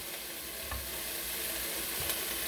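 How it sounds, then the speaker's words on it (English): Salmon sears in a hot pan of olive oil, giving a steady close sizzle and crackle with a couple of soft bumps as the fish settles. "I'm going to go ahead and throw this salmon in there now and get a good sear on that."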